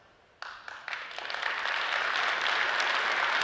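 An audience breaks into applause after a keynote speech, starting with a few scattered claps that quickly swell into steady, sustained clapping from a full room.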